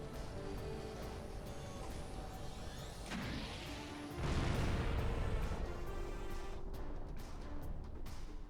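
A big cannon fires in the platformer Jak and Daxter: a rising charge-up whoosh, then a heavy crashing boom with a long rumbling tail, loud and close over steady game ambience.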